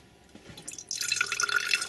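A separated oil-and-water mixture being poured, starting with a few faint drips and then turning into a brighter, steady trickling splash for the second half, close and quiet with no talk.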